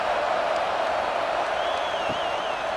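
A stadium crowd in the EA Sports College Football 26 video game murmurs in a steady wash with faint cheers and whistles, a broad, continuous roar at a moderate distance.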